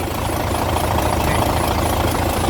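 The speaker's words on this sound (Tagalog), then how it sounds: "6WF1 inline 12 wheeler wing van" A 12-wheeler wing van truck with a 6WF1 inline engine idles loud and close, a dense steady diesel rumble with a fast, even knock and no talking.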